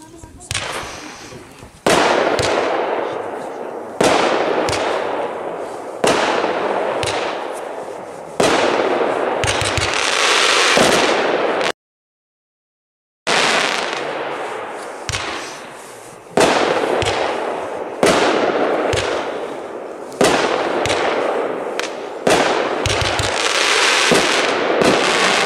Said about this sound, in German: der Artikel Incredible mit 21 Schuss, gleiche UVP